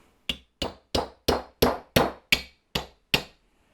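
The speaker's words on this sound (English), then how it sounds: "take your hammer, and we're just going to hammer through so that we have a nice hole" A hammer drives an awl through a glass jar with nine sharp, evenly spaced metallic taps, about three per second, close but fairly quiet, with no talking.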